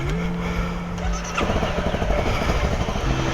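A Honda CRF 250L motorcycle idles steadily up close, then its engine note rises and turns rougher as it pulls away to set off on a ride, with no speech over it.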